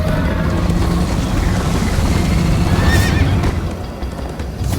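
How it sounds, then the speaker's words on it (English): A horse whinnies amid a dense wash of galloping hooves and rushing wind in Minecraft: Story Mode, loud and continuous, with the noise thinning toward the end. "First time on a horse here."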